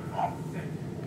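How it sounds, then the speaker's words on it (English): Dogs barking and scuffling in a brief fight, a few sharp yips and barks close by over a steady indoor background hum. "Dog fight."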